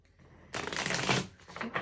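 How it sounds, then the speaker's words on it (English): An oracle card deck is shuffled close by, starting in near silence and then giving a sudden loud riffling burst of cards that rustles on for over a second. "I'm going to grab from my Oracle card deck."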